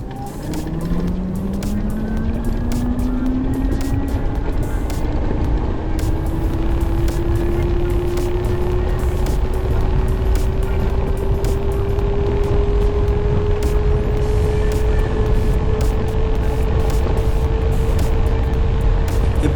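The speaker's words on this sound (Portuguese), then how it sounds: "Também dá para vocês terem uma ideia do barulho que o motor faz" Super Soco TC MAX 5000 W electric motorcycle motor accelerating, a thin whine climbing steadily in pitch and then levelling off over roughly twenty seconds, heard under heavy, continuous wind and road rush.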